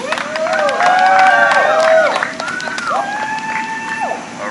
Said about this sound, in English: Give them applause, please.